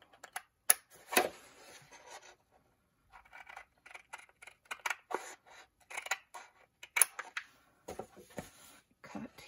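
Scissors snip through an album cover's top half in a run of short, crisp, close-up clicks and crunches, with brief pauses between bursts of cuts.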